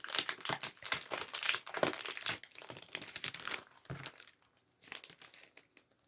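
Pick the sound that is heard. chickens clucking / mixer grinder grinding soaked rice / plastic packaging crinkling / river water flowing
plastic packaging crinkling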